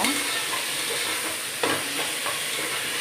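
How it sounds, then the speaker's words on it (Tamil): Green chillies and tomatoes sautéing in a pan for chicken biryani, a steady close sizzle with soft stirring scrapes throughout and no talking. "முதல்ல பச்சை மிளகாய் போட்டுட்டு அதுக்கப்புறம் நம்ம தக்காளியும் சேர்த்து போட்டு நல்லா வதக்கிடலாம்"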